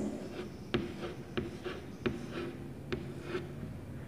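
A pen marks beads onto a place-value diagram in a handful of short, quiet strokes, spaced irregularly and heard close up with faint background hiss.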